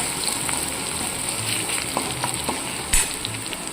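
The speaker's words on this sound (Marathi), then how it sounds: "मी हे ठेचलेला लसूण त्याच्यामध्ये टाकून घेत आहे तो पण आपला तेलामध्ये चांगला असा लालसर असा भाजून घ्यायचा आहे" Crushed garlic fries in oil in a pan, giving a continuous close sizzle with light scraping stirs and one sharp clatter near the end.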